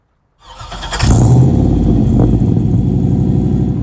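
A Jeep CJ Scrambler with a 6.0 LS V8 on 37-inch tires cranks over and fires, settling into a loud, steady, lumpy idle rumble close by.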